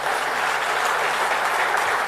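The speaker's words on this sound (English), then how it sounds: "let's have a huge round of applause once again" Audience applause at a motivational session honoring Pullela Gopichand, a dense, steady wash of many hands clapping, loud and sustained throughout with no talk over it.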